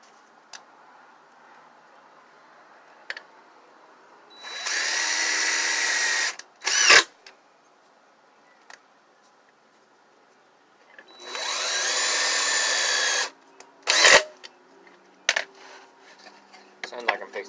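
A power drill whirs in two bursts of about two seconds each, separated by quiet clicks and small knocks, fairly close, during gardening work in an RV.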